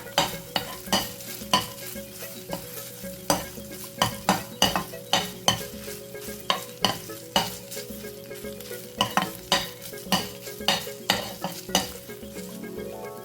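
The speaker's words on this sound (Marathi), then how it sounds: "आता हा पनीर आपण तुपावर परतून घेऊया" Paneer cubes fried in ghee in a pan, with a steady frying sizzle under a brisk rhythm of repeated spatula scrapes and clinks against the pan, close and continuous.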